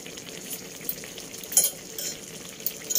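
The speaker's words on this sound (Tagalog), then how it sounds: "Nagluluto ako ng ginataang tulingan." Tuna cooking in coconut milk sizzles and bubbles in a pan with occasional stirring clinks and scrapes of a utensil.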